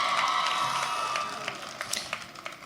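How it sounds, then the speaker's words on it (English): Audience applause at a university undergraduate commencement for the student giving the invocation, a steady wash of clapping that thins out and fades, with a few sharp individual claps near the end. "You can clap for her, it's impressive"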